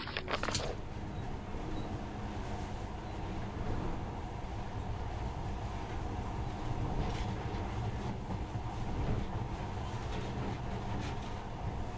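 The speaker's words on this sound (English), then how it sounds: "In the past, trains were ordinary things. But now, this monorail seems magic, doesn't it?" Monorail train running in the post-apocalyptic game Metro: Last Light Redux, a steady loud rumble and rattling hum with rhythmic clatter, continuous and close throughout with no talking.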